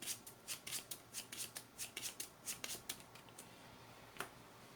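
A deck of playing cards being shuffled during a tabletop card game, a quick series of soft riffling bursts in a steady rhythm, close and fairly quiet with no talking.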